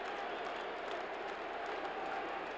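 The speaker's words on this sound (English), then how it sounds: "Listen to this chant of defense erupting now from this partisan Detroit Lion crowd" A partisan Detroit Lions home crowd at a 1979 football game against Washington roars steadily throughout, a dense continuous wall of stadium noise with rhythmic chanting of defense blended into the din.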